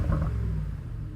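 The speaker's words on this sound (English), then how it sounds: "it's time to listen to the sound of the all-new G800 from the outside" A 2025 Brabus G800 G-Class, an 800 hp facelifted Mercedes G-Class, heard from outside as a deep, loud exhaust rumble that swells briefly and then settles into a lower, steady burble.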